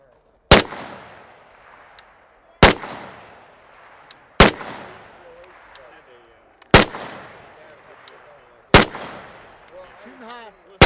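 Sharp single gunshots from a Century Arms VSKA rifle at an outdoor range, five loud reports spaced about two seconds apart, each with a short ringing decay and faint voices between shots.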